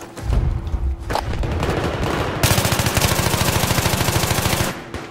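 Battlefield 3 gunfire is heard as a few close shots followed by a long, loud, rapid machine-gun burst with an even rhythm that stops abruptly near the end.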